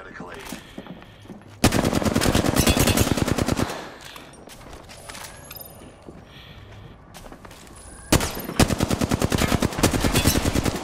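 Apex Legends automatic gunfire rattles in two long, loud, rapid bursts, separated by a quieter stretch of game sounds.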